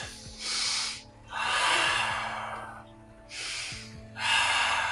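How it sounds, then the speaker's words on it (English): Slow, deep breathing during a yoga session. Long hissing inhales and exhales alternate evenly, close and clear, over a low steady background hum. "Deep breaths."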